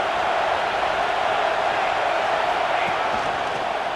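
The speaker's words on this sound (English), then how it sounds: "This crowd knows when to bring it." A stadium crowd in the college football video game EA Sports College Football 26 gives a steady, loud roar that holds at an even level throughout, with no distinct voices standing out.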